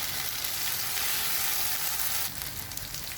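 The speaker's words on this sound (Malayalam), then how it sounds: "ഇത് ഫ്രൈ ആയിക്കൊണ്ടിരിക്കുകയാണ്." Mushroom tikka masala sizzles steadily in a pan, a continuous hiss that briefly turns crackly and more stirred toward the end. No one speaks.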